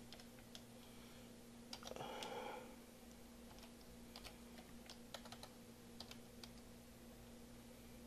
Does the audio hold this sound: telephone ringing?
no